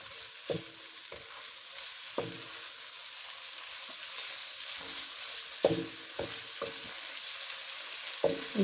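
Vegetables for spicy Thai rice noodles frying in a pan, a steady broadband sizzle with several sharp bursts of stirring and scraping spread through, moderately close, with no one talking.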